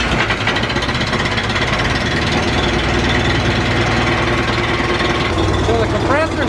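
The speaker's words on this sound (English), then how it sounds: "So the compressor's running right away." An air compressor motor runs loud and close with a steady, heavy rhythmic chugging and mechanical rattle, continuous across the whole stretch.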